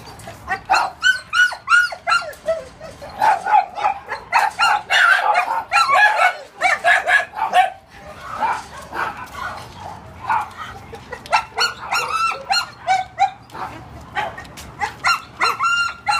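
A young puppy barks and yelps in rapid, repeated bursts, loud and close, with high whimpering cries mixed in over about sixteen seconds, while hens cluck faintly nearby.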